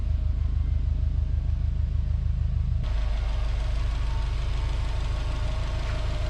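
Subaru Legacy Spec B engine idling while warming up after a JDM engine swap, a steady low rumble that holds close and constant throughout, with no voices.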